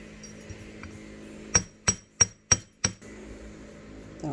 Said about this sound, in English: Take our hammer, a bench block.